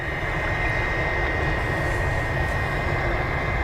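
A Delta jet airliner takes off down the runway at an airport, its engines a steady, loud broadband roar with a constant whine that holds unchanged throughout.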